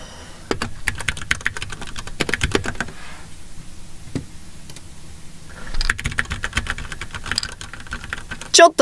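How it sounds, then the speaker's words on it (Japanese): Computer keyboard typing picked up by a microphone resting on the keyboard, with bursts of rapid clicking keystrokes, a quieter pause in the middle, then more fast typing close to the mic. "マイクがキーボードの上あるからな、これ。"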